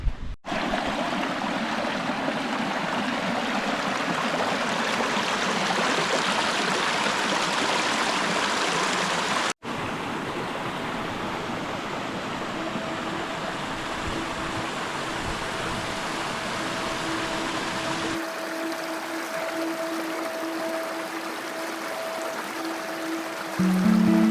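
A Canadian creek rushes steadily and loudly close by, a continuous broadband wash of flowing water throughout with no voices.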